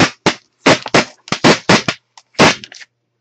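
Thick packing tape yanked off a stencil card in short loud crackling rips, a string of separate tearing bursts with brief gaps between them.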